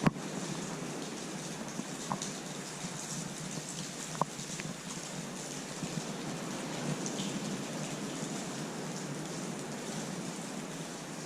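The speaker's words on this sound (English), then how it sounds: "It's literally raining." Steady rain in Cornwall hisses continuously, with a few louder drips tapping nearby; no one speaks.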